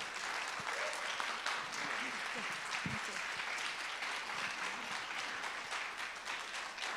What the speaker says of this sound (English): So give them a round of applause for sure.